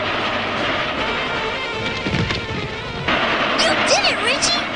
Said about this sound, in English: Time to put this train into passing gear!